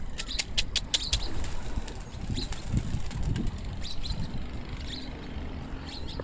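Pigeons in a rooftop training flock flap their wings in quick, fluttering bursts over steady outdoor background noise, with soft flutters and chirps scattered throughout.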